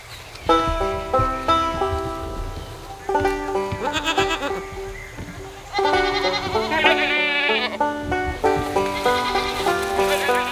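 Goats on a farm bleat loudly and repeatedly, several overlapping calls close by, with a short quiet gap midway.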